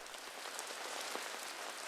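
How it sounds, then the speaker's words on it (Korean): Steady early-winter rain falling on surfaces, a dense, even hiss with scattered droplet ticks, continuous and moderately loud with no voices. "초겨울에 추위를 재촉하는 비가 내리는 어느 날"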